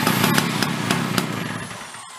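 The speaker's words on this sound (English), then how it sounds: "Let's go try her with an electric drill." An electric drill spins and cranks a Chrysler Snow Runner snow blower engine with its pull start removed and decompression not yet freed, giving a loud steady whir with rhythmic cranking pulses that stops abruptly at the end.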